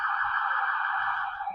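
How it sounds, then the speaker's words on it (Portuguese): A vehicle horn sounds as one loud, steady blare lasting over a second, with a faint low rumble underneath. "A buzina."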